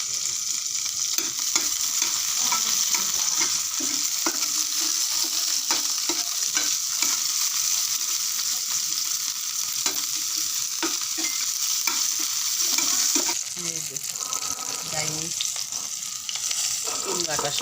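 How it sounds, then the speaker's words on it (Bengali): Green chilies frying in a pan, a continuous bright sizzle with repeated scraping and stirring strokes of a spatula, close and loud, with faint voices in the background. "এদিকে মরিচ ভাজি করা হচ্ছে।"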